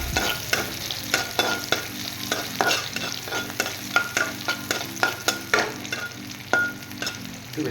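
Onions and green chillies frying with fish in a pan for Assamese posola, a dense sizzle under rapid, repeated stirring scrapes and clinks of a spatula against the pan, close and continuous with no speech.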